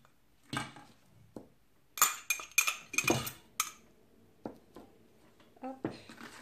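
A utensil scrapes and clinks against a bowl while orange zest is mixed into semolina cake batter, uneven bursts of clatter separated by short quiet gaps.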